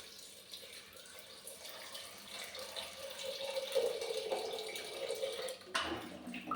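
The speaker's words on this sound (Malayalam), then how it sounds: "നമുക്ക് ഈ കടല വേവാനുള്ള ആവശ്യമുള്ള വെള്ളം ചേർക്കട്ടോ" Water poured into a pot of chickpeas for cooking, a faint splashing, trickling flow that builds in the middle and then tapers off, with a sharp clunk near the end.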